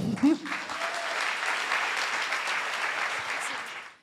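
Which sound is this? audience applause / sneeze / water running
audience applause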